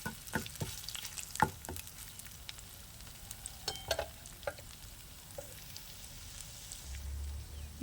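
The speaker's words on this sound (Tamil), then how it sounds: "இஞ்சியை நல்லா வதக்கிடுங்க, இல்லாட்டி கொஞ்சம் இஞ்சி ஃப்ளேவர் ரொம்ப அதிகமாக தெரியும்." Ginger sautéing in a pan for coriander chutney, with soft sizzling and occasional scraping stirs of a spatula, quiet and close, with gaps between the stirs.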